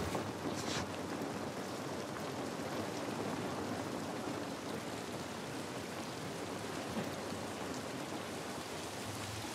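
Steady outdoor rain in The Last of Us, a dense, even hiss of falling drops on surfaces that holds unchanged throughout, with no voices.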